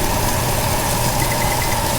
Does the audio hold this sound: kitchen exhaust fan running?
yes